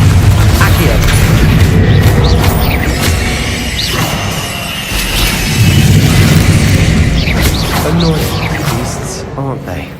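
Bombarda and Confringo spell explosions in Hogwarts Legacy, a steady run of booming blasts and crashing bursts over dense game noise, loud and close, with a voice speaking spell names throughout.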